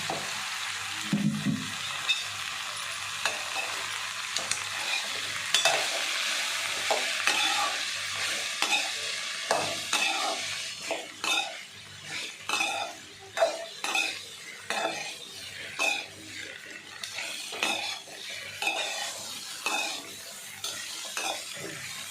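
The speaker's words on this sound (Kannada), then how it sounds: "ಒಂದು ಸ್ವಲ್ಪ ಆಯಿಲ್ ಹಾಕ್ಬಿಟ್ಟು ಫ್ರೈ ಮಾಡ್ಕೊಳ್ಳೋಣ" Okra (ladies' finger) frying in a little oil in a pan, sizzling steadily while a spoon stirs with repeated scraping strokes and occasional metal clinks against the pan, close and continuous with no voices.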